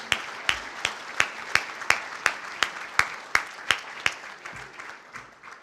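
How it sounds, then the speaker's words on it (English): Steady rhythmic clapping at a sports hall of fame induction ceremony, a run of evenly spaced sharp claps that rings out clearly and tapers off toward the end, with a softer spread of other hands beneath. "let's give everybody a round of applause."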